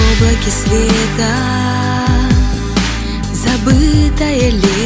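Pop song playing from a 1999 compilation cassette of 1990s studio recordings, with continuous melodic vocals and instruments at full, close volume.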